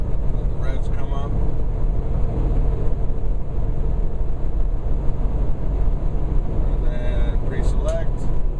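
A truck's engine with a 13-speed transmission drones steadily under ongoing talk, its revs building gradually between gear shifts.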